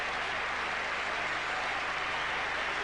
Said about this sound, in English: Listen to the crowds cheering for the top 3 of this German Grand Prix